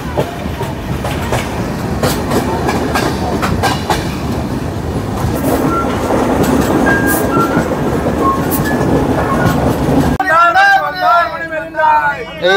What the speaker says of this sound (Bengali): হাওড়া থেকে 152 কিলোমিটার পথ পার করে আমাদের এই ট্রেন এসে দাঁড়ালো